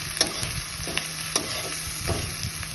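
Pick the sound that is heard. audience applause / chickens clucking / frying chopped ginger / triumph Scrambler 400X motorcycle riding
frying chopped ginger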